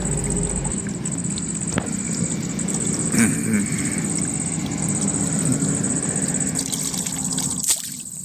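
Shallow village stream water trickles and flows steadily around feet standing in it, a continuous close wash with faint engine rumble underneath and a soft splash near the end.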